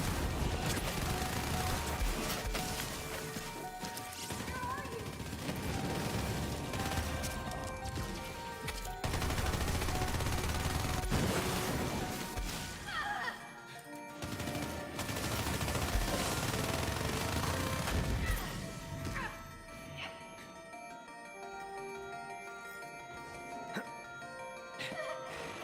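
Gunfire in the shooter game Borderlands 3, rapid bursts of shots and crashes filling the first stretch, then thinning into sparser game sounds toward the end, with no talking heard.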